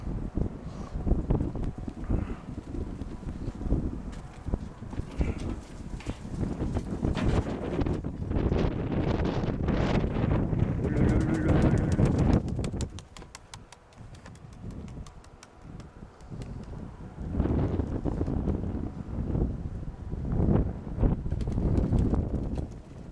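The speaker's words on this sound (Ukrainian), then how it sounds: "Ветер, конечно, в сильный, порывистый" Strong, gusty wind buffets the microphone outdoors near a flock of pigeons, surging loud in long roaring bursts, dropping briefly to a quieter lull, then rising again.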